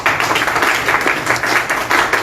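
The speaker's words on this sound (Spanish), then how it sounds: "fuertes palmas para él" Loud, dense applause from a crowd at a political event in Lima, steady clapping that carries on for the whole stretch.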